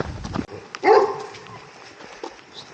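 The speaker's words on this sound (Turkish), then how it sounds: "Bir minik bir köpek ayaklanmasıyla denk geldik." Small village dog giving one loud, sharp bark up close, with softer yaps and rustling before and after it outdoors.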